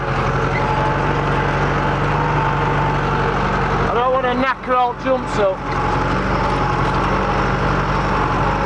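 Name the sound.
four-wheel-drive tractor engine revving at about 2,000 revs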